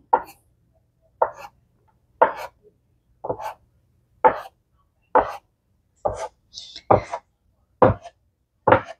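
A knife chopping soft pretzel dough into pieces on a board: about ten crisp, evenly spaced thuds, roughly one per second, close and distinct against near silence.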